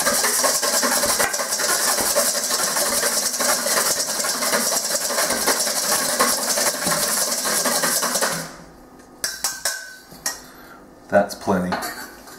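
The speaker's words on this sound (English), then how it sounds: "We start with a couple of egg whites. Just going to lightly whisk those to break them up." Egg whites being lightly whisked in a bowl with a metal utensil, a dense run of rapid clinking and scraping for about eight seconds, followed by a few scattered knocks and taps.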